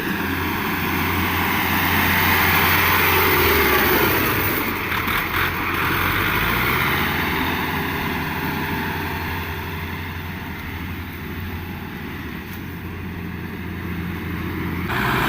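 A used Kubota L1-265 four-wheel-drive tractor with power steering runs its engine and gearbox, a steady, fairly loud droning hum that swells and eases slightly without break.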